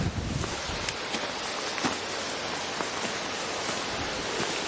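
Wind blusters steadily outdoors at Okutama Lake, Japan, a broad roaring hiss buffeting the microphone throughout, with no voices.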